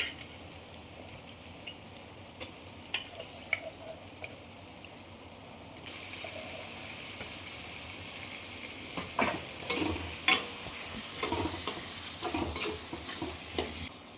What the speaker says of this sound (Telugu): ఇప్పుడు చికెన్ కూడా వేసుకుంటున్నానండి అందులో.